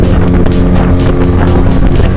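Speedboat ride at Dream Holiday Park in Narsingdi, a loud continuous motor drone with rushing water and wind noise, heard close and steady with no voices.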